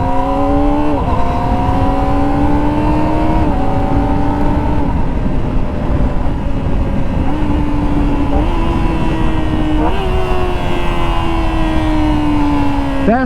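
A Kawasaki ZX-25R SE 250cc four-cylinder sport motorcycle screams at high revs while riding, its loud whining engine note climbing through repeated gear changes with short dips between each shift over steady wind rush.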